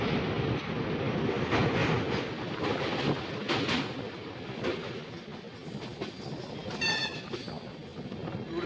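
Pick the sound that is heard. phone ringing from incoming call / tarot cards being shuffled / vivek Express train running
vivek Express train running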